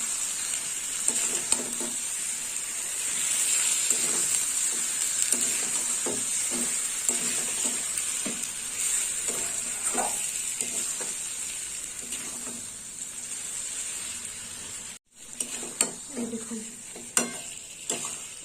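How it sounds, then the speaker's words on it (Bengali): Pointed gourd simmers with spices in a Bengali poppy-seed curry pan, giving a steady close sizzle. Scraping stirs repeat throughout, and a brief gap comes near the end. "পটলগুলোও দিয়ে দেবো পটলের সাথে মশলা দিয়ে ভালো করে কষিয়ে নেব"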